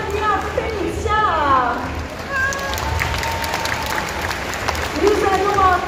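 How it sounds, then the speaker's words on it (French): An audience at a cosplay contest at Bordeaux Geekfest keeps up steady clapping and cheering while a presenter talks over a microphone. "Vous pouvez l'applaudir très très fort"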